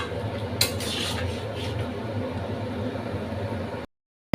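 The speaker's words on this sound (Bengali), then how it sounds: "তো দেখুন ভালোভাবে এটা আমি নাড়িয়ে চাড়িয়ে দিচ্ছি" A pot of mixed vegetable curry being stirred, with steady scraping and clinking of a utensil against the pot over a continuous cooking hiss, one sharper clank near the start, then abrupt silence.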